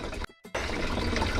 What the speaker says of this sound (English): follow it with enough water to give you 1 inch of water on the bottom